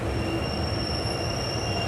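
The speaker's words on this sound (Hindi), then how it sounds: "हमारी ट्रेन खुईखेड़ा रेलवे स्टेशन से निकल चुकी है" Leaving Khuikheda railway station, the train's wheels squeal with a sustained high-pitched whine over a continuous, loud rolling rumble of the railcars.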